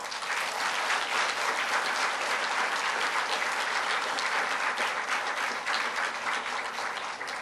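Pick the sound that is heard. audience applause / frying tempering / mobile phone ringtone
audience applause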